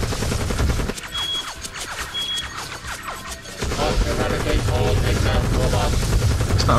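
Omega, a robot in Sonic Heroes, firing in rapid bursts with crashing impacts and game effects, loud and busy, with people talking over it.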